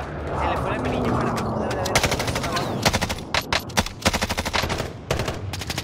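Warzone gunfire, near rapid bursts of automatic shots in uneven clusters, loud and crackling, with a voice speaking briefly at the start.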